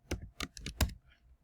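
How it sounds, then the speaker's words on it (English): Keys on a computer keyboard are typed in several quick, close bursts of clicks, with the tapping tailing off into quieter stray taps and no talking. "sorry, I cannot type"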